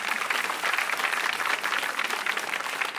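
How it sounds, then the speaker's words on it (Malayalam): Studio audience applauding a team on a Malayalam TV comedy show, steady dense clapping sustained throughout at moderate level. "അതിന് ഒരു വലിയ കൈയടി."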